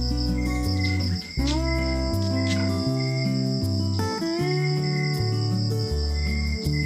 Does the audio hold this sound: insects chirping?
yes